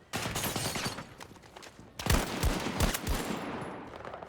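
Battlefield 2042 gameplay gunfire rattles in rapid bursts, a dense stream of automatic shots that pauses briefly, then resumes with several heavy, close booming reports.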